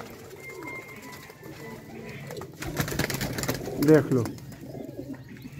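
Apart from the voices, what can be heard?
pigeons cooing, young racing pigeons for sale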